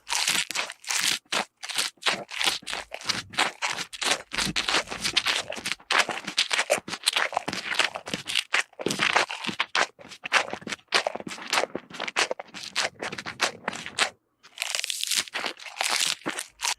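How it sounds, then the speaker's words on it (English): A cow chewing, rendered as a sound effect: dense, wet crunching and crinkling chomps in a fast, continuous rhythm, close and loud, with one brief pause near the end. "I thought the sounds of a cow chewing would just make it even more gross and disgusting"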